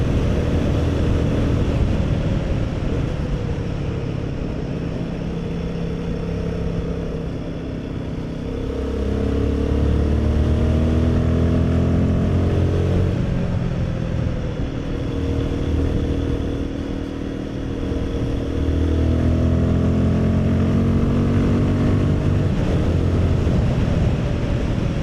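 A Royal Enfield Guerrilla 450 motorcycle ridden on damp country roads, its engine droning steadily with rising and falling revs through gear changes, close and continuous over wind rush.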